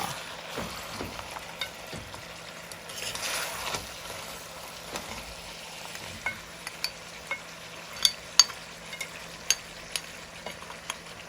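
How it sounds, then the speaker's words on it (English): Oxtail simmering in a pot over a medium-low flame gives a soft, low bubbling hiss broken by scattered sharp pops and ticks, quiet and close with no voices. "I also reduced the flame to a medium low so that it could simmer."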